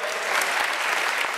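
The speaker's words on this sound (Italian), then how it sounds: "io l'applauso diciamo di sostegno ad Antonio" Steady applause from a crowd at an Italian political event, many hands clapping densely together, fairly loud and continuous throughout the short stretch.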